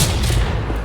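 Gunfire in the zombie shooter game Left 4 Dead 2, a loud, dense, booming burst of shots filling the brief moment without pause, heard close and alone.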